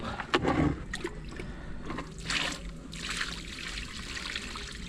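Excess water trickles and drains out through the hole in the bottom of a large plant pot, a close, steady splashing dribble with a brief louder gush near the start.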